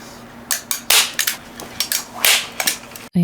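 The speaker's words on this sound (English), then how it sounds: "I also staple the fabric over the gap of the stretcher bars." A staple gun fires staples through canvas fabric into wooden stretcher bars, about eight sharp snapping clacks at irregular intervals, close and loud, with quiet between shots.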